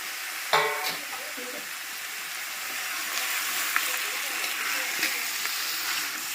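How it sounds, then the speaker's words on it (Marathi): Raw chicken tipped into a pot of hot oil with bay leaves, cloves, cinnamon and green cardamom for Kolhapuri chicken pickle, opening with a sharp clatter and burst of sizzle that settles into a steady close frying hiss. "आता आपण हे चिकन त्याच्यामध्ये पातेल्यामध्ये ओतायचं आहे"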